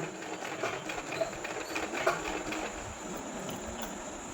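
A sewing machine stitching folded printed fabric for a kurti, a faint, steady rapid whir with light rhythmic ticking throughout, no voices over it.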